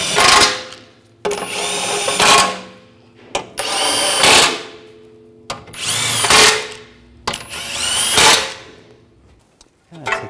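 Power tool, likely an impact gun or drill, tightening bolts during a front CV axle replacement on a 2009-2010 BMW 535i xDrive, in four loud, close bursts of whirring and rattling separated by brief pauses.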